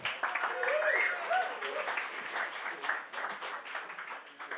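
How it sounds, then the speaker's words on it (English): An audience claps for Leah, a reader at a flash fiction storytelling night, soft and fairly distant, with a voice speaking over the start before the clapping thins out. "Big round of applause for Leah, please"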